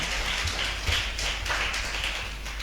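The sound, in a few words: congregation clapping hands in church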